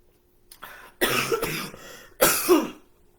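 Two harsh, forceful coughs close to the mic, each a rough broadband burst, separated by a brief pause after a faint throat sound.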